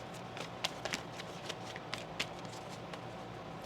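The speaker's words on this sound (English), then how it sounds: "One more shuffle here." Tarot cards being shuffled by hand, soft papery riffles and light taps in an irregular patter, quiet and close with no voice over them.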